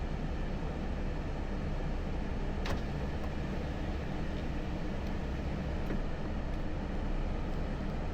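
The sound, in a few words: car driving over a riverbed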